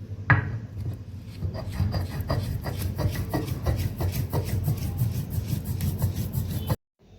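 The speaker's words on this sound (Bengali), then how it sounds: "দিয়ে আমি এবার আস্তে আস্তে বেটে নেব।" Poppy seeds, green chillies and coconut get ground into a paste on a stone, a steady rhythmic scraping and rubbing back and forth, close and moderately loud, stopping abruptly near the end.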